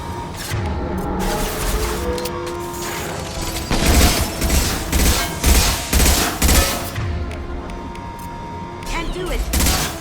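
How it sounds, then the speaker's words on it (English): Dense gunfire and explosive bursts of a firefight in the video game Mass Effect 2, loud and continuous with heavier impacts in the middle, mixed with voices talking over the action. "Taking heavy fire."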